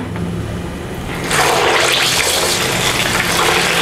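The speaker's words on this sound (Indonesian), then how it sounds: "Selanjutnya kita mau goreng pempeknya." Jumbo gluten-free pempek fish cakes made from snakehead fish frying in hot oil: a quieter start, then a loud, steady, close sizzling hiss that holds to the end, with no talk.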